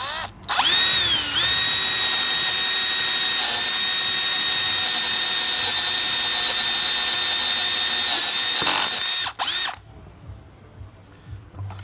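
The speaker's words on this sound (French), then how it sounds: "Allez, c'est parti, on perce." A power drill bores into a gearbox casing to take a Helicoil thread insert. The high whine is loud and close, runs steadily for about nine seconds, dips briefly in pitch, and then stops abruptly.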